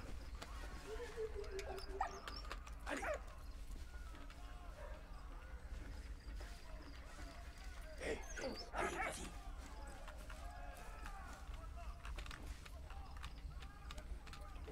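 Dog in the World War I game Valiant Hearts: The Great War barks a few times amid game ambience and light footstep-like clatter, quiet, with a person talking over it.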